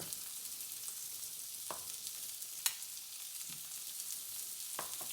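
Salmon fillet searing in a hot pan, a steady broadband sizzle running throughout with a few brief sharp pops and crackles rising above it.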